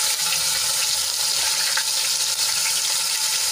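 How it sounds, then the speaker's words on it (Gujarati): Ginger garlic chili paste sizzles in hot oil with mustard seeds, cumin and asafoetida, a loud, close, constant frying hiss with faint crackles and light stirring, no voices heard. "અને 1 ચમચી આદુ લસણ મરચાંની પેસ્ટ છે એ એડ કરી દઈશું"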